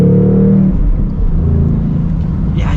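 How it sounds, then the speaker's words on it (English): Ford Mustang Bullitt exhaust rumbling steadily from inside the car with the windows cracked, a loud low drone that holds through the clip with a brief revving swell near the start. "If I actually roll down the windows a little bit so you guys can get a little bit of exhaust."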